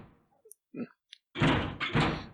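A door in a puzzle video game gets tried without opening: a few small clicks and a soft knock, then two heavier rattling thunks as the handle is pulled against the lock, close and isolated.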